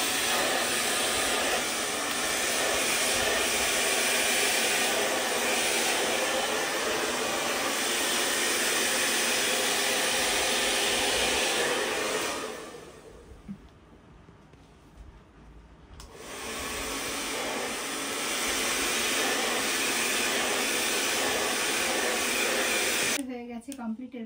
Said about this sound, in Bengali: ড্রাইং প্রসেস চলছে এখন।